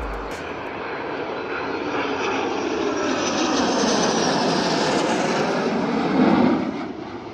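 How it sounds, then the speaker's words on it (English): An Airbus A321 flies in formation with two fighter jets, producing a continuous, loud jet roar that swells slightly and peaks near the end with no voices. "This Airbus A321 flying in formation with two fighter jets."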